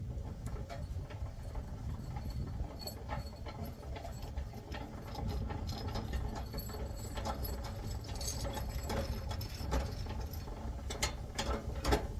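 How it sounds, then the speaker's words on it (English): A scissor-style car jack on a Mazda MPV is cranked by hand, producing a continuous run of rapid ratcheting clicks and metallic creaks at close range, with no talking. "So let's get this cranked back up. Just go righty-tighty, like so."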